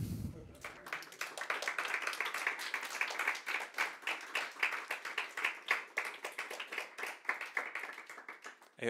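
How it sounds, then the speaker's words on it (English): Applause from a roundtable audience after a presentation: a few dozen separate hand claps in quick, uneven succession, moderately close and fairly thin, continuing without a break from start to finish. "please applaud"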